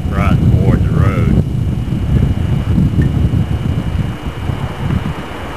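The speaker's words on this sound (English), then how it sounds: "Kind of windy out here all day today." Steady wind rumbles and buffets the microphone outdoors, with a brief voice at the start.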